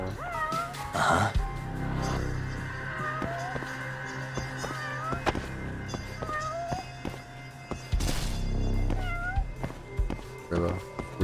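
A cat meows repeatedly in the video game Judgment, short rising cries that recur throughout, set against game sounds and a voice talking.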